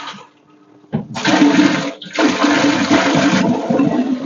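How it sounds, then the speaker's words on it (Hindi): Water pours into a laboratory autoclave chamber, a loud rushing, gurgling flow that starts after a quiet moment, breaks briefly, then continues steadily up close. "हम इसमें थोड़ा और पानी डालते हैं"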